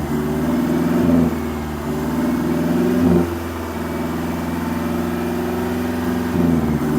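A car's aftermarket exhaust is held at a steady 2,500 RPM for a sound-level test, a loud droning hum recorded close up, with a few brief dips and surges in pitch along the way.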